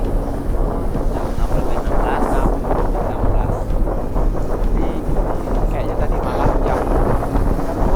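A ferry boat cruises at sea with strong wind buffeting the microphone, a loud, continuous rumble and gusting roar throughout, and some muffled speech mixed in.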